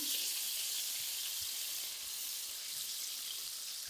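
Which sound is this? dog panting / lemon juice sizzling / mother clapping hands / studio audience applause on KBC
lemon juice sizzling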